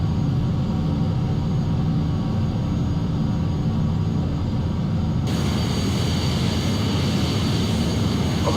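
Airliner engines on a takeoff roll in a flight simulator game give a steady, loud, broadband roar and whine that holds throughout and brightens partway through as thrust builds, with no talk.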